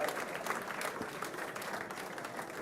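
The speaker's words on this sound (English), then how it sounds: "Another round of applause for our Rookie of the Year." A large audience at an awards ceremony honoring a Rookie of the Year applauds steadily, producing a dense, even wash of clapping heard from within the room.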